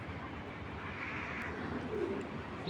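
Pigeons at a pigeon farm, soft low cooing from several birds over a steady background hum, moderately near and without speech.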